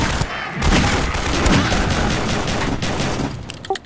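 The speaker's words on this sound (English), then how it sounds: "Oh, I shot a citizen by accident." Video game gunfire rattles in rapid, dense bursts for a few seconds, loud and close, as a civilian character is shot by accident; no one speaks.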